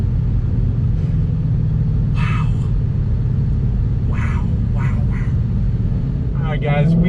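A 2020 Ford Shelby GT500 driving, with a deep, steady engine and exhaust rumble throughout and short bursts of voices or shouts breaking in over it.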